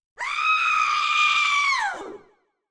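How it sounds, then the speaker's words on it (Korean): A huge, drawn-out scream in a horror story, one loud sustained shriek lasting nearly two seconds before it cuts off and trails away, heard alone. "이어서 들려오는 거대한 비명."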